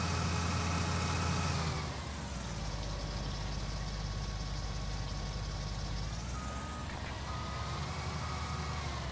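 A tractor engine in Farming Simulator 2019 on Slovenian hill farmland drones steadily throughout, a low continuous rumble with a louder surge in the first two seconds and faint beeping tones above, no talking.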